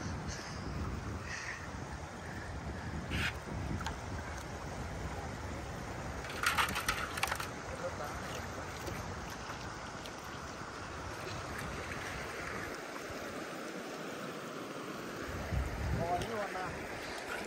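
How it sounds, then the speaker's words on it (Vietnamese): A muddy stream, swollen after recent rain, gushes steadily in Laos gold-prospecting country, its broadband rushing continuous and fairly close throughout. "Tiếng suối này ngủ ngon lắm ấy."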